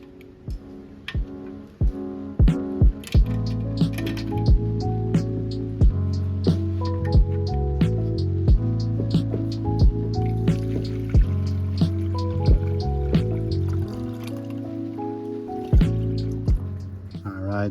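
Distilled water pouring and gurgling into a Miata radiator, with a steady trickling fill and bubbling tones rising as it fills, close up and alone apart from a few clunks.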